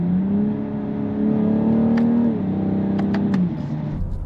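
BMW M440i xDrive coupe engine in sport mode pulling hard with a rising drone that drops at each paddle shift, then a few sharp crackles as it eases off, heard from inside the car.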